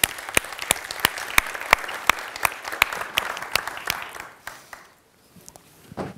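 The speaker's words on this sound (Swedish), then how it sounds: "Och vi ger dem alla en stor applåd" Applause from a conference audience at Internetdagarna 2019 as a panel is thanked, steady dense clapping that thins and fades out near the end, with a brief burst resuming at the close.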